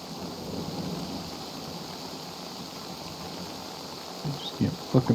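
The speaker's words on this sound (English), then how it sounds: "No, the rain's dying down. Okay, maybe it is hail. No, this is hail." A thunderstorm with rain and hail in the GoldrushRP roleplay game: a faint, steady wash of rain under a low rumble, with a few louder knocks near the end.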